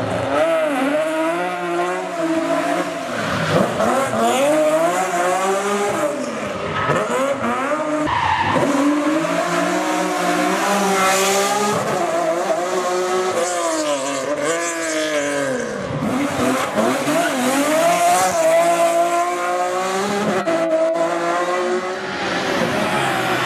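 A race car driven fast, its engine loud and continuous, revving up and down through gear changes with rising and falling pitch, and occasional tire squeal, close and alone without talking.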